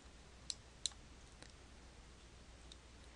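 Two quick, faint computer mouse clicks on a link, close and sharp over a quiet background hiss, followed by a couple of softer ticks.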